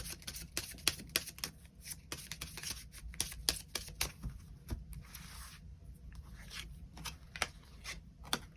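Tarot cards being shuffled and drawn by hand, a quiet, close run of rapid crisp flicks and snaps with brief softer pauses between bursts.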